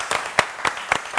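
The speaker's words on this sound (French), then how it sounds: "On va l'applaudir." A brief burst of applause from a crowd, dense clapping with a few sharper individual claps standing out, steady and fairly close.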